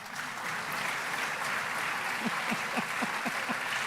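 An audience claps steadily throughout, a dense wash of applause heard from within the crowd, with no one speaking.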